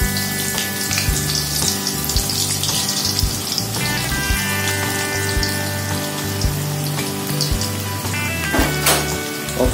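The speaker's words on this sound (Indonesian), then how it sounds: "selanjutnya kita goreng lagi" Stink beans frying in a pan of oil, a steady close sizzle and crackle with occasional louder spits, continuous throughout with no talking.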